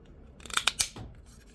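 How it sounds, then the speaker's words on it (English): A window switch on a 2012 Kia Sportage snaps into place with a quick cluster of three or four sharp plastic clicks, close and fairly quiet, with no talking. "As long as you hear the clicking sound, that's good."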